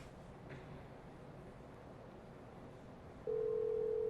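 Faint background hiss, then a steady telephone tone begins abruptly near the end and holds at an even level.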